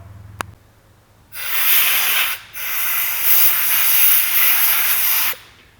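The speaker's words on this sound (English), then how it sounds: "I'm gonna blow everything out around here, clean this up real good" Compressed air blasts around the relief valves of a Cub Cadet, blowing out debris in a loud, steady hiss that runs about four seconds, stops briefly, then resumes, with a small click beforehand.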